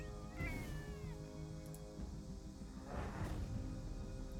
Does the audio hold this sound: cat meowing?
yes